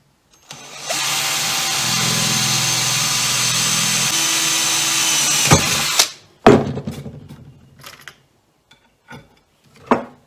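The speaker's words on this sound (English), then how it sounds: "So I'll hold it in place and just drill the second hole." A power drill bores a hole in a homemade fishing seat box, a loud continuous whine lasting several seconds, its pitch shifting partway as it bites, followed by knocks and handling clatter.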